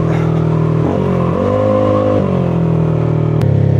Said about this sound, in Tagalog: Kita nyo yun, gigil na gigil yung makina.